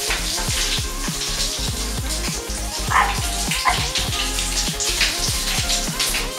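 Running water pours steadily as hands are rinsed clean after washing, a loud continuous splashing rush heard close up, with a tonal background underneath.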